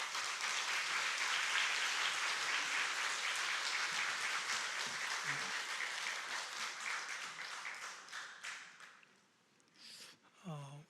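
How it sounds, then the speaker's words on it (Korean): A church congregation at a Sunday worship service gives loud, sustained applause to welcome the elder pastor, then the clapping tapers off into a few scattered claps and a brief voice at the end. "원로 목사님 나오실 때 우리 큰 박수로 우리 환영하도록 하겠습니다"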